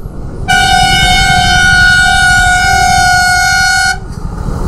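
A loud, sustained vehicle horn blares for about three seconds over low engine rumble in a highway traffic jam, then stops as traffic noise continues.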